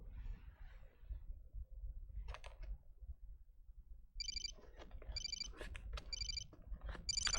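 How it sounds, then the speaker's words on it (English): A phone rings in the video game Xenosaga, repeated electronic trilling bursts in a steady pattern over low background music, fairly close and clear. "Phone."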